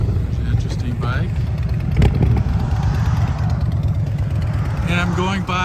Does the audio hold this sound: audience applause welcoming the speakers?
no